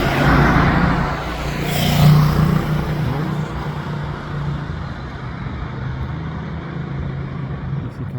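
A Ferrari SF90 drives by on a road as a broad engine and tyre rush swells near the two-second mark, then settles into steady traffic noise.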